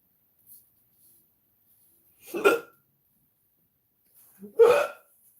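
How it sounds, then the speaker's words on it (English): Two hiccups, a couple of seconds apart, sound fairly close and clear against near silence, with only a faint small noise before them. "Getting the hiccups right now."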